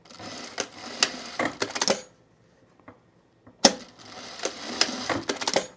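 A sewing machine stitches back and forth across an elastic casing on a boho tunic in two short bursts of close, clattering, irregular machine noise, separated by a near-silent pause with faint clicks.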